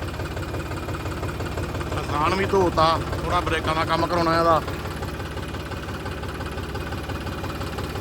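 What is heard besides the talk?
tractor engine idling while warming up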